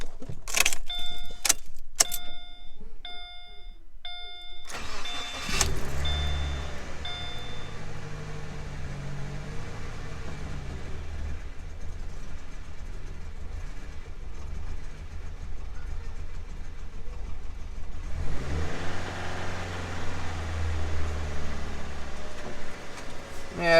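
Subaru with idling issues, keys jingling and warning chimes, then the engine cranks and catches at about five seconds, settling into a steady close idle with a brief rev near the end.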